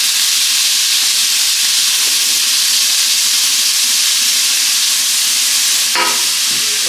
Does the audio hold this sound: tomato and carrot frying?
yes